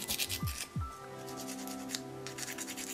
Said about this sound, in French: Donc je vais limer mes ongles.